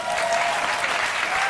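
Dense applause from a lecture audience at a talk on feminism, steady and continuous throughout with no voices over it.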